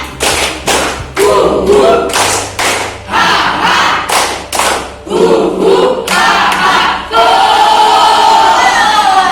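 A school class performing the rhythmic Tepuk India clapping chant, loud group claps and thumps in bursts, with children chanting together in a crowd, ending in shouting.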